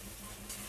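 Masala sizzles and is stirred in hot oil for coconut ghugni, a brief close frying hiss with a scraping stir near the end.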